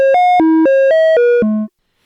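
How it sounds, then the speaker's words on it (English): A Z3000 sine oscillator in a eurorack system plays a short stepped sequencer melody of about seven clean, pure tones in even rhythm, loud and alone, ending on a lower held note before silence. "I'm just going to patch a quick little melody with the sequencer here"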